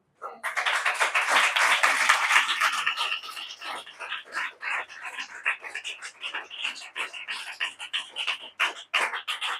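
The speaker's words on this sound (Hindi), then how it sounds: "जोर से ताली बजाए।" A congregation at a Hindi-language Sunday church service claps loudly, starting with a thick burst of applause that settles into brisk, rhythmic group clapping for several seconds.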